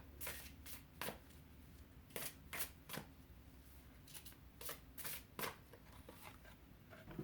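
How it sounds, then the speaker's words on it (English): A deck of Fairy Tarot cards being shuffled by hand: a series of crisp, close riffling bursts at irregular intervals, roughly a dozen flurries, with no talking. "I'm going to shuffle the Fairy Tarot again."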